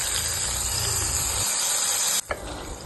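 Hot tempering of oil, garlic, red chilli, asafoetida and turmeric is poured onto cumin saar and gives a loud, steady hissing sizzle that cuts off abruptly and then fades to a softer simmer.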